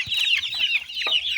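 Chickens on a village chick farm in Africa cluck and chirp in quick, close, repeated calls, with several birds overlapping in a busy, steady chatter.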